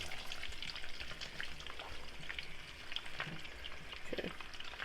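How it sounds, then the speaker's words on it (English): Zucchini and squash sauté over medium-high heat in hot oil and melted butter, giving a quiet, even crackling sizzle with faint stirring sounds throughout and no talking. "So now we're going to add the zucchinis and the squash to it."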